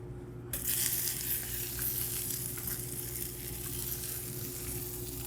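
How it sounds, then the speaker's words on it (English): Leeks hit a hot pan and set off a sudden, steady sizzle that stays loud and close from start to finish, with light stirring scrapes and no talking. "that pan's still nice and hot. And we will add in our leeks"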